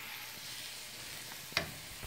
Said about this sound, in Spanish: Tengo ahorita guisando 3 cebollas ahí bien picadas.